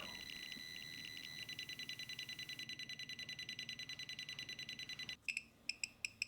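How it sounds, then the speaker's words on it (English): A Geiger counter with a scintillation detector sounds its radiation alarm near a gamma-emitting source: a steady high electronic tone with rapid, regular clicking pulses, then a few loud, separate beeps at the end. "it is silent until the alarm starts going off on it"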